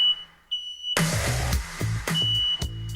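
A household smoke alarm sounds a thin, high, steady tone, heard alone at first and then persisting faintly beneath a run of loud, rhythmic thumping bursts.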